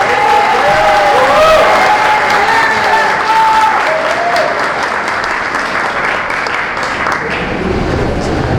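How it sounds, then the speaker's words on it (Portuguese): Loud, sustained applause from a crowd at a conservative gathering in São Caetano do Sul, welcoming the event organizer, with some cheering and voices mixed into the steady clapping. "Uma salva de palmas"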